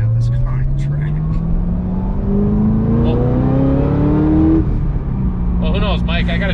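A Chevy Corvette C6 ZR1 pulls hard in third gear, its engine note rising steadily and loudly from inside the car before easing off. People talk briefly near the end.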